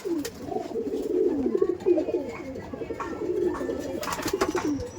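Ablook flying pigeons coo in a continuous low, throaty murmur, several birds overlapping close by with brief chirps and rustles, while someone talks faintly in the background.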